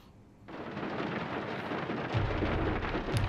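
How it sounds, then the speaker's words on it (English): Rain and rumbling thunder in the Bomber Crew video game form a steady, dense wash of noise that starts abruptly and grows heavier, with deep low rumbles swelling near the end. "It's raining."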